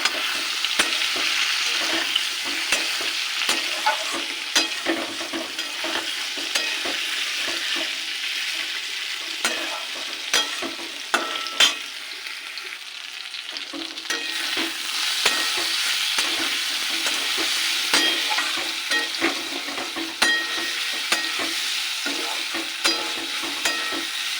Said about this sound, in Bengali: কুমড়োটা একটু ভাজা হয়ে গেছে এবার দিয়ে দেবো সেদ্ধ করা ছোলা